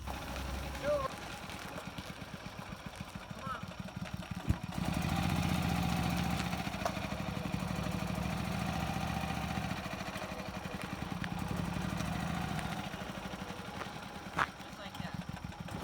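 A 1964 Comet race car engine runs steadily at a low idle rumble throughout, moderately distant, with some talking over it.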